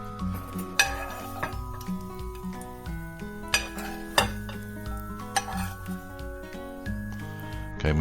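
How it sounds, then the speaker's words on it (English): Bacon deep frying in a pan for a quick three-ingredient meal, heard as a steady sizzle with frequent clinks and scrapes of a utensil against the pan over continuous background music. "This helps to deep fry the bacon a bit more crispy."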